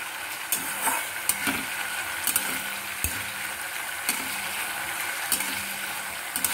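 Mung dal mixed with coconut paste is stirred in a pan, a spoon scraping in a loose rhythm about once a second over a constant close sizzle, with no voices.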